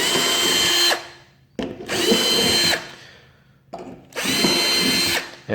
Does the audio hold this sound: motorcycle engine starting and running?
no